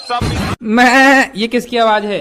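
A person imitates a goat with a drawn-out, wavering bleat, then asks a short question.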